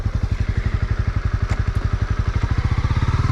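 A Honda CB300R single-cylinder motorcycle engine idles close by with a fast, even, thumping pulse, loud and steady throughout.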